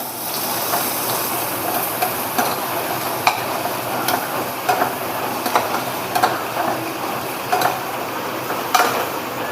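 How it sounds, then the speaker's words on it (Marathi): Onion fries in hot oil, a continuous close sizzle with occasional crackles and stirring scrapes throughout, no voices. "आपण आता चांगलं कांदा भाजून घेऊया तेलामध्ये"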